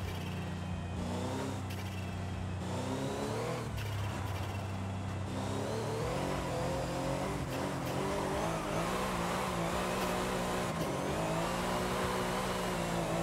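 Brabus 800 in Forza Horizon 5 with turbo flutter, a continuous loud engine drone with repeated rev changes and quick fluttering breaks, steady for over ten seconds, no speech.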